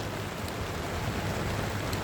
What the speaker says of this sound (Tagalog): Umuulan ng malakas.